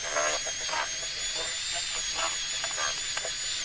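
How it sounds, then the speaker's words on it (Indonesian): Electric hand mixer whirring steadily as it beats egg yolks with powdered sugar for semprit cookie dough, a thin high buzzing hum with faint rhythmic scraping pulses, no talking. "mixer kuning telur dan gula halus hingga tercampur rata"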